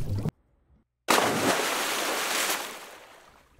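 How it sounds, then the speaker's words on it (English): Underwater sound effects from a stock library: a short muffled burst, a pause, then a sustained rushing, bubbling wash of water that slowly fades, heard alone without speech. "search by different themes, for example, underwater sound effects. Let's listen to a few here."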